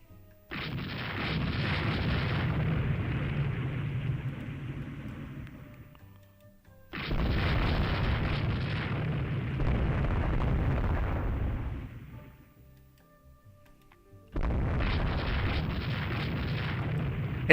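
Naval guns and explosions in the warship game Rule The Waves 3 sound as three long, heavy booming salvos, each roaring for several seconds before fading, separated by brief near-silent gaps.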